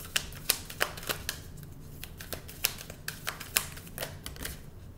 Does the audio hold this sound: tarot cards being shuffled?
yes